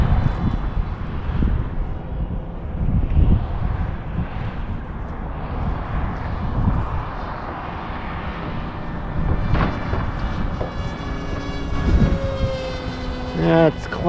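An RC Fleet Sonic Wing 1200mm model plane flies on a windy day, its engine drone steady under heavy wind buffeting on the microphone, with brief bursts of louder gusts throughout.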